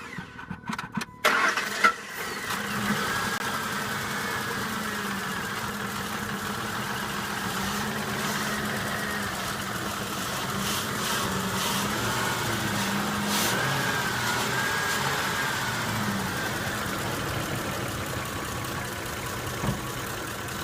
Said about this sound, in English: Idle like this, since I have such a big engine, it doesn't want to idle right.